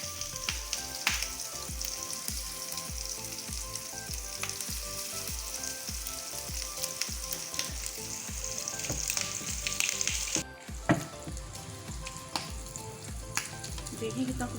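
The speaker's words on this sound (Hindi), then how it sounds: "तो ये इस तरह से इसको फ्राई करेंगे और सारे फ्राई करके दिखाते हैं आपको।" Shami kababs frying in ghee give a steady, close, bubbling sizzle that runs for the whole stretch, with a brief clink partway through and no talking.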